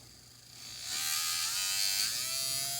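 A small electric model-train motor, fouled by steel-wool shavings pulled into its magnets, whirs up to a steady high-pitched buzz and holds it. It sounds close and alone, with no talking.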